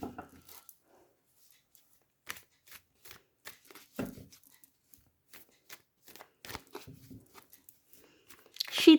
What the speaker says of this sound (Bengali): ঠিক আছে, আমি শাফল করে নিই।